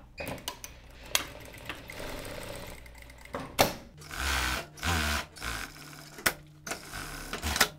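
A sewing machine stitching the side seams and short end of a cuff for a women's shirt, running in several short bursts with brief pauses and rattling mechanical clicks, heard close with no talking.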